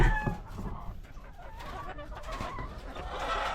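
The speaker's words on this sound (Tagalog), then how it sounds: "ayan yung mga manok natin" Several chickens in a coop cluck and murmur nearby, soft and intermittent, with a rooster-like call in the background.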